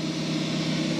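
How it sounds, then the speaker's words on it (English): An air compressor runs steadily in a garage during a truck leveling kit install, a continuous motor drone heard close and alone with no talk. "Sorry about the compressor noise."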